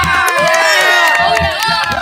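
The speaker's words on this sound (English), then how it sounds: "Give them a round of applause." A school class cheers and whoops loudly after student demonstrations, with excited young voices shouting over scattered clapping in a lively, close burst.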